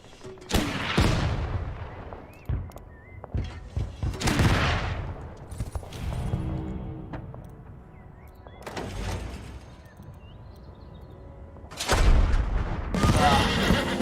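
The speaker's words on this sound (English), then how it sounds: "let's get our mortarmen to focus fire on that cavalry" Mortar fire in the Total Tank Generals strategy game, several heavy booming blasts spaced several seconds apart, each with a long decaying rumble, loud and near.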